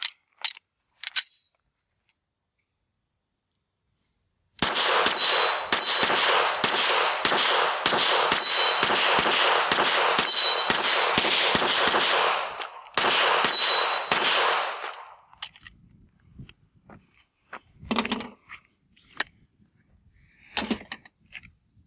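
Rapid pistol shots from a Springfield Armory Echelon 9mm ring out at an outdoor range, a fast string of sharp cracks lasting several seconds, followed by scattered fainter clicks and handling noises.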